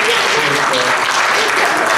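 A church congregation applauds during a sermon, a dense, even wash of many hands clapping at once that stays loud and close from start to finish.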